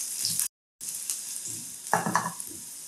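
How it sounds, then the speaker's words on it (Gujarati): Gatta dumplings shallow-frying in a pan while being stirred, giving a steady close sizzle with scraping stir sounds, briefly cut to silence near the start, then swelling with louder spatters. "આ રીતે ફ્રાયપેનને હલાવતા રહેવાનું."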